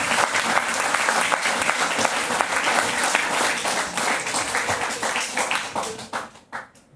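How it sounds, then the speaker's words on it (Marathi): An audience gives a teacher a strong round of applause, many hands clapping loudly and continuously up close before the sound thins and fades out near the end. "सरांसाठी जोरदार टाळ्या व्हायला पाहिजे."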